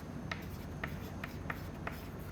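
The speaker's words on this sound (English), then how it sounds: "So I am going to write down" Writing on a board during a lecture: five evenly spaced, short, soft strokes tap out a steady rhythm against a quiet room hum.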